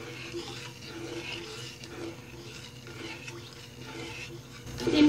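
Sugar stirred into a glass of water with cardamom powder and food colour makes soft, low swirling and faint liquid sloshing in a pot, with a brief louder clatter near the end.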